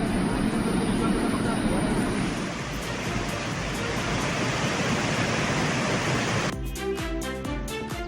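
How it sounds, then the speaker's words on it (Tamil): Athirappilly waterfall in flood, a dense, loud, unbroken roar of falling water lasting several seconds, briefly giving way to other sound near the end. "அதிரப்பள்ளி அருவியில் நயாகரா போல தண்ணீர் ஆர்ப்பரித்து கொட்டுகிறது"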